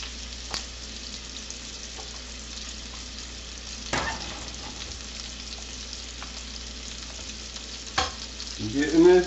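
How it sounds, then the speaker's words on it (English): Butter sizzling in a frying pan makes a steady low hiss with a few louder scrapes and clatters from the pan, close and without talking. "I add a little bit of butter"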